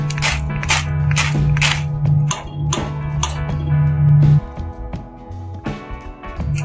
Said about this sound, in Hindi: आप आवाज सुन सकते हैं ये कितनी क्रिस्पी हैं।